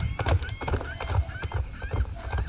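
A horse in the Star Stable online game clip-clops along in a quick rhythm, with whinnies and neighs breaking in over the hoofbeats.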